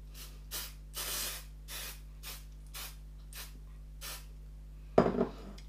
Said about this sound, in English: I happen to have, though, some cake release spray